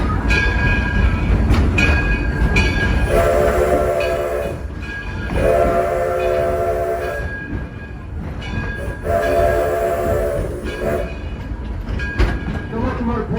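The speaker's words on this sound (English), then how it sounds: "The locomotive pulling our train today, the Edison, has a build date of 1932." A 1932-built locomotive pulling a passenger train rumbles steadily with a horn sounding in repeated long blasts, loud and close, over continuous rolling noise.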